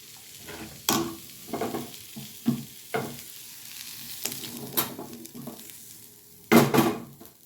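Chopped mixed vegetables fry in a pan for a vegetable dal, a steady close sizzle broken by irregular scrapes and clanks of a spatula stirring them, with one louder clatter near the end.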